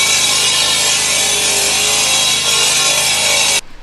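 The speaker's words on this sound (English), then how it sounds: "there's a masonry saw. We'll put up a clip right now" A masonry saw grinds steadily through stone, a loud, even, high-pitched whine that holds for several seconds and then cuts off abruptly.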